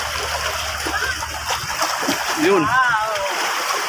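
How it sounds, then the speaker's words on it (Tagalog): Large sea waves splash and wash against concrete tetrapods along a shoreline, a steady loud surf with a heavier surge partway through, while people talk and a voice briefly speaks over it. "Ang laki ng alon dito."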